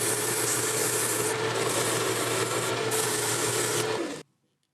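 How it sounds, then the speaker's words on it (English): Sandpaper is rubbed steadily back and forth over a wooden dowel, a close continuous scratchy rasp that stops abruptly near the end. "now I can come back with sandpaper and sand this down a little bit until it's the right"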